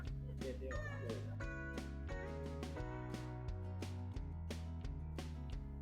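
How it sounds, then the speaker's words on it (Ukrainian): A cat hidden beneath a small house in Funchal, Madeira, meows faintly amid loud, rhythmic music that dominates the scene. "А тут під будиночком котик."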